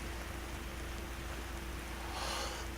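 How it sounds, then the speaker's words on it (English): Heavy rain pours down steadily in the video game Vergel, a dense, even hiss that stays loud and constant throughout, briefly swelling a little brighter near the end, with no talking. "the rain's really calming, even though it's beating down on me very hard"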